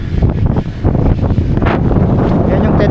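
Strong wind on a beach in Pangasinan buffets the microphone in loud, rumbling gusts, with the broad roar of surf or rushing air behind it and some voices faintly mixed in.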